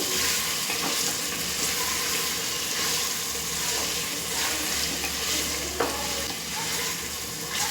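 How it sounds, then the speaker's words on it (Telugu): Chicken is stirred into a gongura biryani mixture in a pot with plenty of oil, producing steady frying sizzle and repeated close scraping strokes of a spoon. "ఇప్పుడు ఇందులోన మనం కలిపిన చికెన్ని ఇందులో వేసుకొని ఉంచుకుంటాను మిక్స్ చేస్తున్నానండి"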